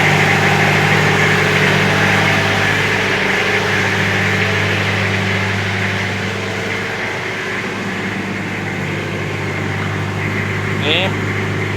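A 1999 Toyota Kijang engine idles steadily during a tuning treatment, its exhaust giving a continuous loud low rumble and hum with little change throughout.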